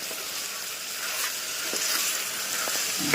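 Water poured into a hot, sizzling tempering for Kathiawadi khichdi gives a soft, continuous hiss and crackle, fairly quiet and steady, swelling slightly toward the end.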